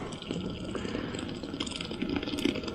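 Beer glugs and splashes steadily into a crab boil pot for a low country boil, a close, continuous liquid pour with faint rattling underneath.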